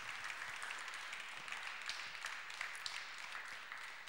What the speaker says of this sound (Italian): che inviterei a comunque a presentarsi con un applauso, Federico